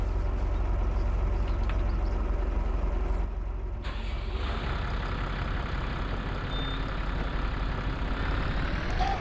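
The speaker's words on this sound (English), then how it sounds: "I think I'm gonna enjoy the sound of this tractor tremendously." A large farm tractor's engine runs steadily, a loud continuous low rumble that drops briefly before resuming, with no talk over it.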